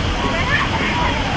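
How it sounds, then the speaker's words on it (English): Water sloshing and splashing in a hotel lazy river, a steady broadband wash of moving water filling the moment, with faint crowd babble in the background. "And this is a good lazy river."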